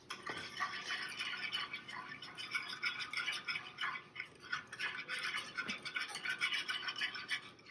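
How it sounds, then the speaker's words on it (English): Dijon mustard and oil whisked together in a bowl for a Philly cheesesteak, making a continuous quick, light scraping and clicking of the whisk, close and fairly soft, with a brief lull midway. "So now we're just going to whisk this all together."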